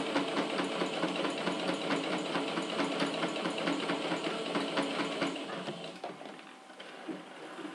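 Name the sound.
sewing machine stitching a backstitch on a fabric pouch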